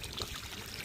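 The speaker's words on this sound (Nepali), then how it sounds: "यसरी वालमा राखेर क्युरिङ गराउँछु ताकि ब्रिकले चाहिँ मजाले चाहिँ वाटर एब्जर्ब गरोस्" Curing water runs over a newly built brick wall, a quiet, brief, steady pouring wash of spatter and trickle with no speech.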